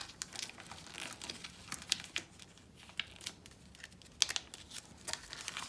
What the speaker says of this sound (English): now we're going to fold it in half and about 1 centimetre fold the bottom up.